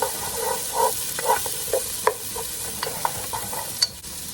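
Jalapenos being stirred in a pot for lentil soup, a steady scraping and stirring with light sizzle, with sharper clinks of the spoon against the pot scattered through, close and moderately loud, with no talking.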